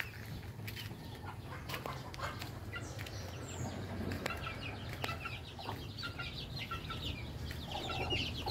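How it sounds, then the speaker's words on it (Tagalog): Backyard chickens and young chicks cluck and peep steadily at close range, with scattered soft calls over a low ambient hum and no talking. "Ito yung mga sisiw natin"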